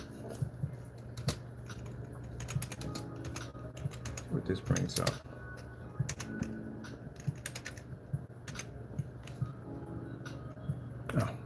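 Steady typing on a computer keyboard, a rapid uneven clatter of key presses with brief pauses, under a man's speech.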